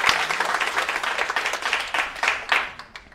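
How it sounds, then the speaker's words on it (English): Audience applause at a hackathon event, a steady patter of many hands clapping at moderate distance, slightly thin and uneven, swelling a little near the end before fading. "Applause, please."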